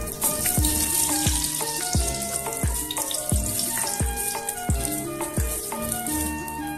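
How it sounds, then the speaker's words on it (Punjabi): Cashews roast in ghee in a kadhai for a vegan handi biryani. A continuous crackling sizzle runs throughout beneath a steady rhythmic musical beat. "ਇਹਦੇ ਵਿੱਚ ਆਪਾਂ ਕਾਜੂ ਥੋੜ੍ਹੇ ਜਿਹੇ ਰੋਸਟ ਕਰ ਲਾਂਗੇ"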